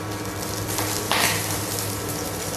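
Onions frying in soybean oil in a bowl on a stove, a steady close sizzle with a brief louder hiss burst near the middle, no talking.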